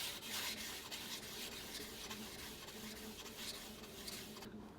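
A speed skate blade is drawn back and forth along a fine-grit red sharpening stone, a soft, continuous scraping rub in steady strokes, faint and close.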